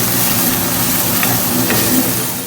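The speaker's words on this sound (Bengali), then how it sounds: "চিকেন ভাজা হচ্ছে।" Steady, loud sizzling of chicken frying in a pan, a continuous crackling hiss with occasional light stirring scrapes.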